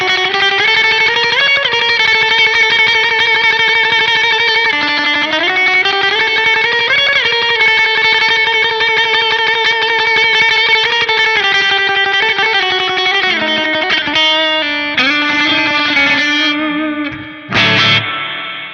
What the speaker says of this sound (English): it's good for all the classic kind of spring sound